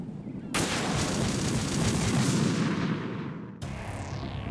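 Sniper rifle fire in the Metal Gear Solid 2 video game: a loud, sustained blast with a rumbling tail, cut off abruptly and followed by a second burst, with no talking.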